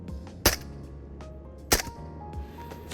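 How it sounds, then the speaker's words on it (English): Two sharp VSS rifle shots in Into The Radius VR, the first near 0.5 s and the second near 1.7 s, each a loud broadband crack with a short tail. Quiet game ambience and small clicks fill the gaps between them. "I also find it extremely satisfying when you hit a perfect lobbed headshot with the VSS."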